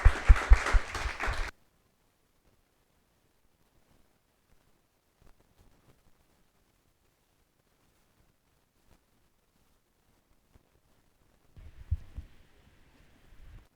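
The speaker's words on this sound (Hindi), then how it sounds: "एक बार ज़ोरदार तालियों से इनका स्वागत करते हैं।" An audience at a Christian gathering gives a short, loud burst of applause to welcome two speakers. It cuts off abruptly into near silence, and a softer rustle of noise follows near the end.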